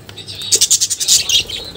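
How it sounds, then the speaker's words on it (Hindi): Budgies in a loft colony give a run of quick, high chirps and chatter with some wing flutter, close by and fairly loud, over a low background hum. "ऐसा भी दिखता है हमारा लॉफ्ट बजीज का कॉलोनी"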